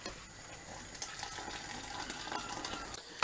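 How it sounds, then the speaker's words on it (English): Water is poured into a simmering pan of bolognese sauce on the stove, giving a faint bubbling sizzle with soft splashes, ending in a brief louder clatter. "I'm just going to add some more water."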